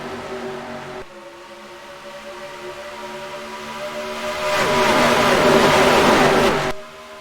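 NASCAR Racing 2003 race cars roar past steadily at Las Vegas Speedway, a continuous engine drone that swells louder as a pack flies by, then drops off abruptly.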